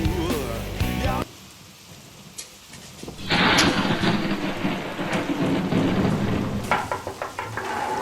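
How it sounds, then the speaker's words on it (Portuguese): Heavy rain pouring down with rolling thunder at night, a loud rumble at the start, then a dense roar of rain on surfaces that swells and stays steady. "Oh, que chuva."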